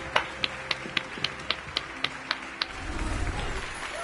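Slytherin students in the Hogwarts Legacy video game give slow, evenly spaced claps, around ten sharp hand claps in a steady rhythm, before a low rumble of background noise swells in.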